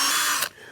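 A power drill whirs loudly and steadily as it bores a half-inch hole, then cuts off abruptly, leaving a quiet hum.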